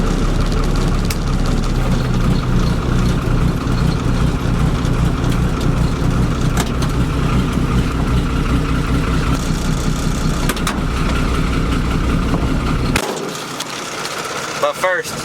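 Nissan 240 with an SR engine cold-starting and idling, a loud, steady low engine rumble that runs continuously for about thirteen seconds before dropping off, leaving quieter background noise.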